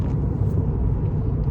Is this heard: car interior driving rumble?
yes